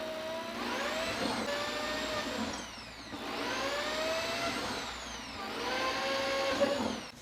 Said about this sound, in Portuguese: Vou fazer furos um do lado do outro até os 15 centímetros